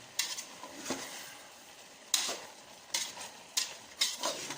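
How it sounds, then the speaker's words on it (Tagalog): A spoon stirs food in a cooking pan, making a series of scraping, clattering strokes roughly every second over a soft sizzle, close up and moderately quiet. "Hahaluin ko na."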